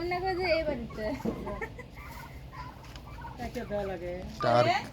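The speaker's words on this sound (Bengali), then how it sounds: "টার্কি মুরগি দেখতে পাচ্ছেন এগুলা সেন্তি শাক খাচ্ছে" Turkeys eating senti greens give a series of warbling gobbles and clucks at close range, with louder bursts at the start and end and quieter calls in between.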